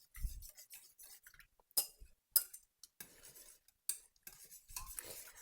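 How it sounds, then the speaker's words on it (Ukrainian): A spoon stirs egg mixture into milk inside a pot, scraping, with scattered metallic clinks and taps at an irregular pace, close by and fairly quiet. "виливаємо яєчну суміш до молока в каструлю і помішуємо"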